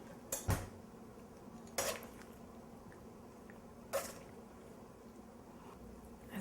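Fresh berries drop into a bowl with three separate soft clinks and knocks of dish and utensil, spaced a couple of seconds apart over a quiet room.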